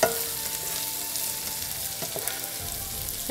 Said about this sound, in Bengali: এখন দুটোকে একসাথেই ভেজে নেব